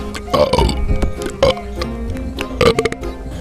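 A cartoon crow belches loudly from a treetop in a Hindi children's animation, a run of several rough, drawn-out burps with short gaps, loud and close, with no talking.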